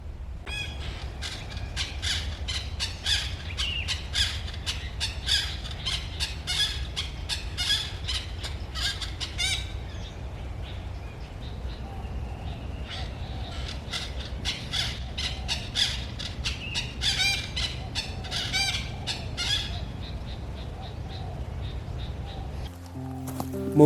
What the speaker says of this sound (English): One common sight is the red-breasted parakeet, with its very recognizable call.